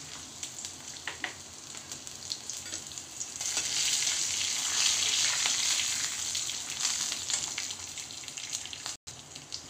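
Grated ginger, two green chillies and roasted moong dal frying in hot oil, a steady crackling sizzle that swells louder midway with faint stirring scrapes, no voices.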